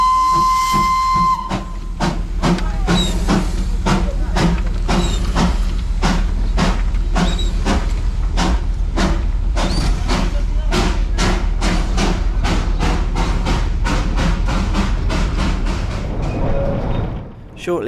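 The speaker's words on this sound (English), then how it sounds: "we reverse into the siding to allow the northbound steam train to pass" A Darjeeling Himalayan Railway charter steam locomotive passes close by on the northbound line: a sharp whistle opens, then loud, rapid rhythmic chuffs and clanking carriages run steadily before fading at the end.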